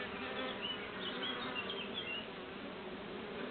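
A flying rose chafer beetle buzzes steadily and continuously nearby, a low droning hum with no pauses.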